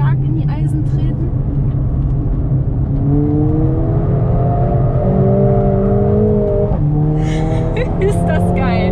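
Mercedes A45s AMG engine revving while drifting on a track, a loud, sustained drone whose pitch rises and falls through gear shifts, with a German voice talking over it at the start and end.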